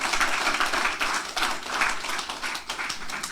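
A church congregation applauds, a dense stretch of many hands clapping together at steady loudness that runs throughout, with no speech over it.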